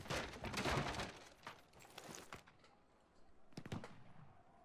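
A cannon fires in the stealth game Shadow Tactics, a burst of sharp crackling booms followed by scattered bangs and a fainter pair of blasts near the end, fairly quiet overall.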